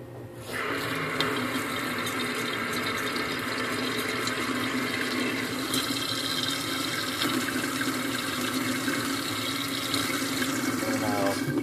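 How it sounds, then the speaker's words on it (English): Hot water runs steadily from a kitchen tap over a 3D-printed faucet cover made of orange thermochromic PLA filament, a continuous close splashing rush that holds for the whole stretch. "I want to show you what happens when you run hot water on that."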